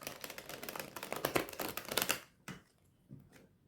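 A thick, chunky tarot deck is shuffled up close in a burst of rapid riffling card flutter that stops abruptly, followed by a few soft taps of the cards settling.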